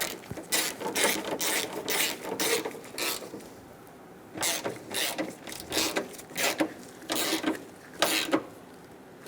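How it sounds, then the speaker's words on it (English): A hand ratchet clicks in quick repeated bursts while snugging down the upper fan shroud bolts on a 1988-1999 GMC K1500 pickup, close and steady, with pauses between strokes. "Snug down the bolts across the top."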